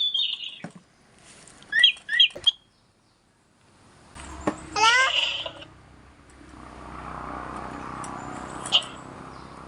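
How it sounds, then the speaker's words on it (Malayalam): A talking parrot toy lets out two quick electronic chirps, goes quiet briefly, then produces a burst of garbled, warbling babble followed by a soft, noisy hiss. "ഇനി ഇത് കഴിഞ്ഞാൽ നമ്മൾ പറയണത് തത്തമ്മ പറയും. 2ാമത്തെ മോഡ് ഇടാം."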